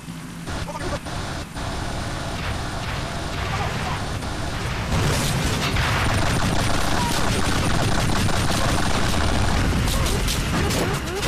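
Video game gunfire from GTA IV while shooting at enemies, a dense stream of loud shots and bursts that grows heavier midway and continues throughout, with a player talking over it.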